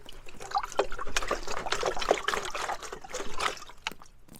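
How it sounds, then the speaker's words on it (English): Liquid fertilizer mix sloshes inside a handheld jug as it is shaken, a steady close wet churning with splashy bursts throughout, no talking. "I take my jug and just kind of shake it up. Try not to spill a lot"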